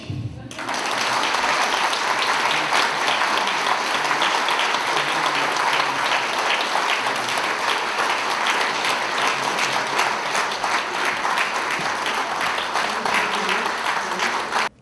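Sustained audience applause after praise for a student from a Tarnów high school firefighter class, a dense, steady clatter of many hands filling nearly fifteen seconds before stopping abruptly.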